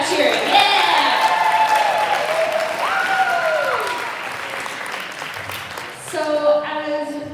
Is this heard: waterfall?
no